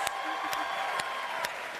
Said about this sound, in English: Let's give one more round of applause to all the questioners, all the interviewers.